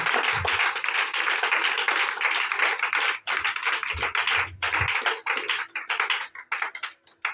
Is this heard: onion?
no